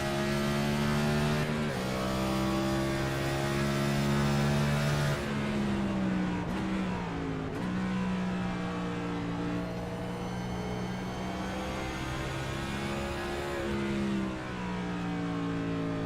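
A race car engine roars continuously in a video game at Watkins Glen International, its pitch rising and falling as it speeds around the track, with steady loud revving throughout.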